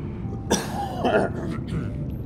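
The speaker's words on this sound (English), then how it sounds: "Excuse me for, for the coughing." A person coughs a couple of times, sharp bursts close to the microphone, with a quiet murmur between them.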